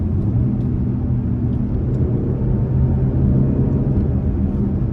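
A 2025 BMW X2 xDrive28i in sport mode runs through a gear shift, its engine giving a steady, fairly loud low rumble that holds without a break and with no talking over it.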